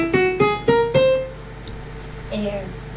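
Keyboard plays four quick notes stepping upward in equal steps, bright and close, then a short pause and a brief faint vocal sound.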